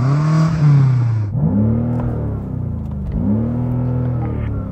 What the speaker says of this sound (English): Go on, rev up yours, Jan.